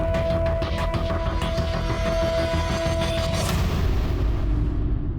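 Loud, sustained rumbling blast with booming low-end energy and a steady crackling roar that fills the whole stretch, no voices.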